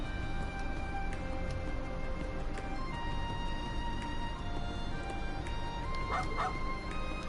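A dog in the Trails Into Reverie video game gives a brief, soft whimpering yip near the end, faint beneath a steady background hum of game ambience.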